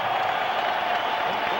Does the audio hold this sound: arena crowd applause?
yes